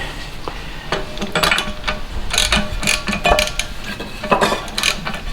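Metal wrench turning a boat propeller braced with a wooden block, giving repeated clanking, ratcheting and knocking sounds that come close and fairly loud in irregular bursts.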